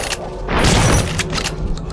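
Shotgun blast in the horror video game The Suffering, a single loud, close boom with a broad crack and short decaying tail, followed by lighter mechanical clatter.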